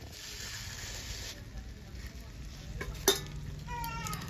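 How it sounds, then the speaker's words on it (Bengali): Hilsa fish frying in oil in a pan, a steady soft sizzle with a faint stir, a sharp clink near the end and low voices in the background. "আমি আবারও মাছটা এদিক ওদিক সরিয়ে মাছটা সুন্দর করে ভেজে নিচ্ছি"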